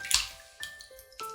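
Oyster mushrooms are given a quick rinse, making a few soft splashes and drips of water in a kitchen, close and quiet, with short gaps between them.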